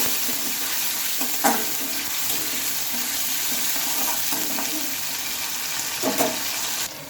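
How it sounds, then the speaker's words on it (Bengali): Tomato and spice masala sautéing in a pan for vegetarian chana ghugni, a steady soft sizzle with the scrape and stir of a spatula breaking through now and then. "মশলাটা দিয়ে নিলাম আর এখন এটা ভালোভাবে কষিয়ে নিতে হবে"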